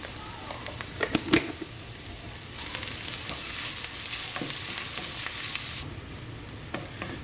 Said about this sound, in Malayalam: ഇത് നന്നായിട്ട് നമുക്ക് വഴറ്റിയെടുക്കണം. ഈ സബോളയൊക്കെ നന്നായി പെട്ടെന്ന് വഴണ്ട് കിട്ടാൻ വേണ്ടിയിട്ട് ഞാൻ ഒരു 1/2 ടീസ്പൂൺ ഉപ്പിടുന്നുണ്ട്